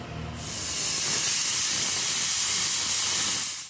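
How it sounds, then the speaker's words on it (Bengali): A pressure cooker on a gas stove, cooking chickpeas with turmeric, lets out a loud, steady hiss of escaping steam that builds quickly, holds for about three seconds, then cuts off, with no other sound. "প্রেশারের কুকারটা মুখটা লাগিয়ে গ্যাসে বসিয়ে দেব আমি দুটো সিটি দিয়ে নামাবো"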